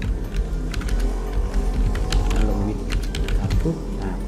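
Computer keyboard typing as a name is entered into a Google Sheets search form, a run of quick close clicks and taps over a steady low hum, with a voice talking throughout.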